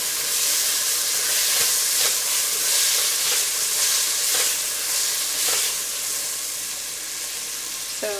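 Garlic sizzling steadily in a hot pan, a loud continuous frying hiss with faint crackles and pops throughout, close and unbroken.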